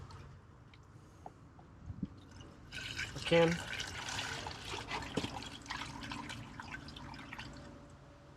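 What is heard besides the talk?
liquid poured through a funnel into a jar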